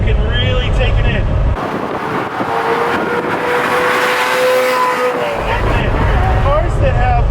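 Ferrari 348ts engine revving while the car drives, a steady loud drone with a rising tone in the middle, then a deeper, heavier rumble over the final two seconds.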